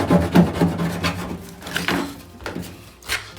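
Hardened Bondo being scraped off a spreader: a few close, rough rasping strokes, louder at first and then lighter, with no talking.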